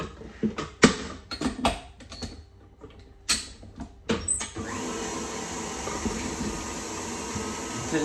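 Stand mixer fitted with a paddle creaming butter and sugar for North African shortbread: a few clunks and knocks first, then a steady, fairly quiet motor whir running to the end.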